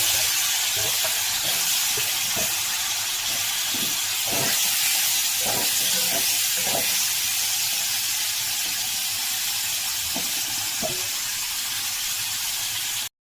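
Cauliflower frying in hot oil tempered with cumin, a loud continuous hiss and sizzle close up, broken by scattered clinks and stirring knocks, with no voices.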